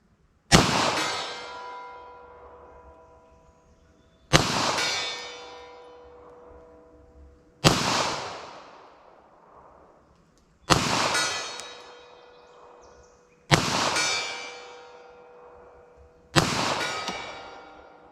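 Six loud, sharp pistol shots fired at a car windshield in a 9mm versus .45 ACP Hornady Critical Duty test. The shots are evenly spaced about three seconds apart, each with a ringing, clanging decay, and no one speaks.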